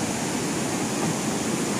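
Rushing water at Bor Hill Waterfall near Dawki, Meghalaya, a steady dense broadband roar that stays even and continuous throughout, with no voices heard.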